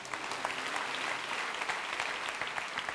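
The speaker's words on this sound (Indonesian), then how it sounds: "Beri tepuk tangan untuk Tuhan Yesus" Congregation applauding for Jesus at a church worship night, a steady, dense wash of many hands clapping that carries evenly from start to finish, with no voices rising above it.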